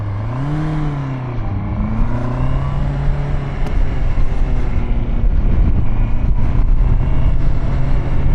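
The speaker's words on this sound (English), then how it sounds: "We're in first. My clutch is pulled in. And I'm using it like a normal clutch at this point." Honda CBR650R motorcycle with E-clutch in first gear, engine note rising and falling early then settling into a loud steady drone with road and wind rumble, close and continuous.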